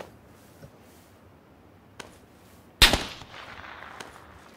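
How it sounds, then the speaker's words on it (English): Gunfire in the battle royale video game PUBG: one loud, close shot bursts out with a lingering tail, set against quiet background ticks and a few faint clicks. "He's shooting."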